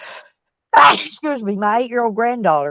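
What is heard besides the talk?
sneeze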